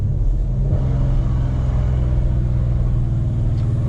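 A Dodge Challenger ScatPack fitted with long tube headers, cruising downhill in first gear, its exhaust a steady deep loud rumble close by with no distinct pops.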